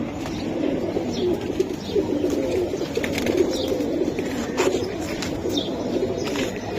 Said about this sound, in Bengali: হ্যাঁ ভাই, সিলভার কবুতর। সিলভার কবুতর।